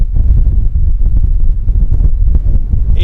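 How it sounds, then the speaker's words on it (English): Strong wind buffeting the microphone at a late Cretaceous fossil dig site in Wyoming, a loud, continuous low rumble with gusting fluctuations throughout. "It's a windy day today, as you can probably see and hear."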